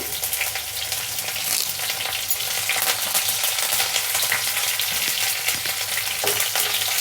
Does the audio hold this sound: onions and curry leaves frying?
yes